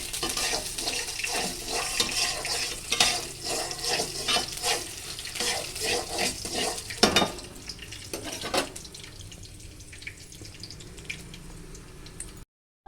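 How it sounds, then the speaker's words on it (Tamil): Onions frying in a pan for upma, a steady close sizzle with scraping and stirring clatter, occasional utensil knocks, no talking. "ஆனியன் போட்டு அதில் சேர்த்து நல்லா இப்போ ஃப்ரை பண்ணிக்கணும்"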